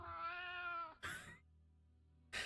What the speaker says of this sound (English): We have to make it cat meow.